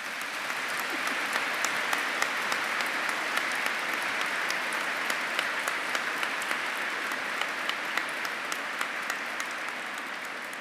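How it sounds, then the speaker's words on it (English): Sustained applause from a large audience at a university graduation ceremony in a cathedral, steady dense clapping throughout with no speech over it. "That deserves a round of applause, I think."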